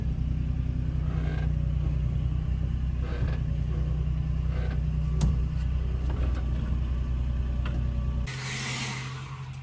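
Mopar car slowly backing into a tight spot, a deep steady engine rumble idling close by for several seconds, then shifting to a lighter hiss and quieter tone near the end.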